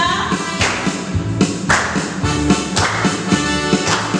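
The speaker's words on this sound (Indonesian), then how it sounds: "semua memuji Tuhan, tepuk tangan ya." A church congregation claps along during an Indonesian Independence Day worship service, with sharp, rhythmic hand claps and thumps repeating steadily over music-like tones, fairly close and loud.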